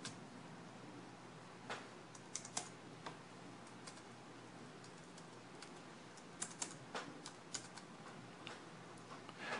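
Clicks and taps of a computer keyboard being typed on, scattered in short bursts across a quiet background, close and fairly soft with no talking.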